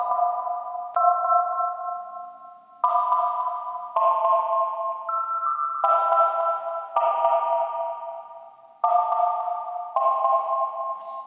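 Black Diamond synth lead from GarageBand on iOS plays a simple melody of clean, bell-like sustained notes, a series of distinct phrases with short gaps, alone and clear.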